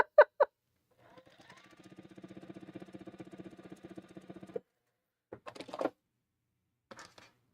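A sewing machine stitches a wall quilt, a soft steady rapid whirring run of a few seconds, bracketed by short clicks and brief handling noises in an otherwise quiet room.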